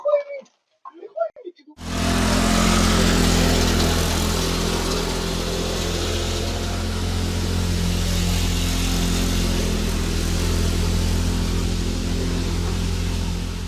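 A boat engine catches after a brief stretch of quiet and settles into a loud, steady, low running drone close by, continuing evenly to the end.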